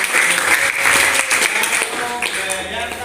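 Classroom applause for a classmate after a student teaching session, a short burst of scattered clapping from a group in a room.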